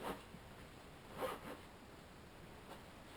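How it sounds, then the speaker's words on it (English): The flap on a shooting competition backpack is closed with a soft zipper-like rasp peaking briefly in the middle, quiet and close over a low steady hiss. "I close this flap."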